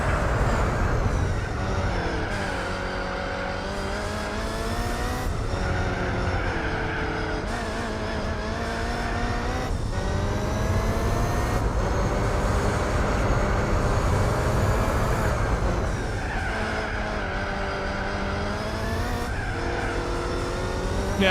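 Race car engines roar through a race in Gran Turismo 4. The sound is loud and continuous, with repeated revving rises and falls as the cars shift gears.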